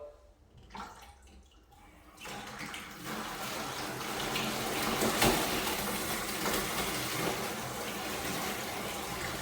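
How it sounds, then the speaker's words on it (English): Water rushes through a newly installed plumbing line being flushed. After a quiet start it bursts in around two seconds and keeps up a loud, steady gushing hiss, like a tap running wide open. "Get this line flushed out really good."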